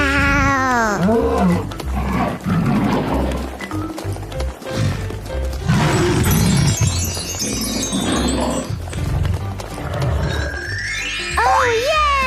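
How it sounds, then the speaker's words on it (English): A lion's roar, part of a children's animal-learning segment, rises over loud bouncy background music with playful sound effects and a voice talking. "Lion."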